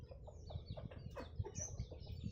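Free-range country chickens peck at scattered bread, giving soft, close clucks and short fowl calls in an irregular, busy rhythm, with faint bird chirps above.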